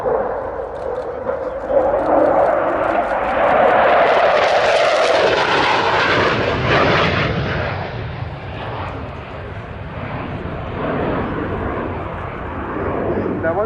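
Twin jet engines of a de Havilland Sea Vixen, each producing about 11,000 pounds of thrust, during a display at the 2016 Yeovilton Air Day. A loud, rising then fading roar sweeps past, with voices faintly underneath.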